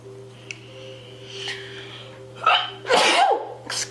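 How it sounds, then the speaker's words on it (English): A quiet room with a low steady hum, then a sharp, loud sneeze burst near the end, followed by another noisy expulsive sound. "Excuse me, I've got the sneezes today."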